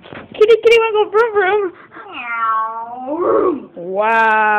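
A cat gives a series of close, loud, drawn-out meows and wails, some wavering and some rising, in an agitated run with no pauses, with people in the room.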